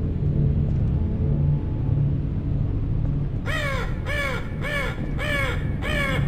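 Crows caw in the Half-Life 2 Episode 3 Closure mod: after a quiet low ambient rumble, five harsh, evenly spaced caws ring out close and loud.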